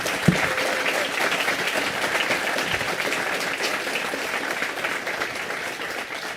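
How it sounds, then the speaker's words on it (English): An audience claps after a talk on concrete poems, dense steady applause filling the room without letup, a few sharp claps standing out at the start. "Huge round of applause for Nick."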